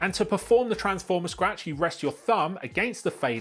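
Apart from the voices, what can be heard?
No distinct noise like a dog, phone or traffic.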